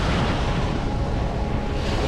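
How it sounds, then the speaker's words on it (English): Rough, wind-whipped sea with high waves churning along the shore near Wat Khao Takiab in Hua Hin, Thailand; a loud, continuous roar of surf blended with gusty wind buffeting the microphone, steady throughout with no voices. "With these high waves"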